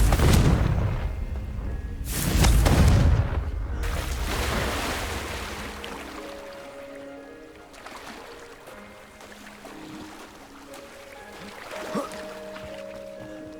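A Confringo blasting curse cast in Hogwarts Legacy, with two heavy booming blasts close together early on, followed by a lingering rumble and soft tonal magical shimmer.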